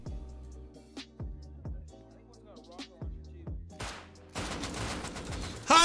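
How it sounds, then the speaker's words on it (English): Scattered gunshots in a survival shooter raid, several sharp single cracks spaced out, then a denser burst of firing toward the end, fairly close with no talk over it. "I missed my shots, dude."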